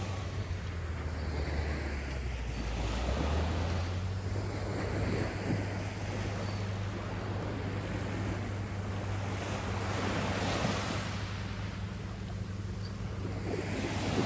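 Waves and wind on a fairly calm morning at a beach in North Naples, Florida, a steady broad wash of surf under heavy wind rumble against the microphone, continuous with no voices.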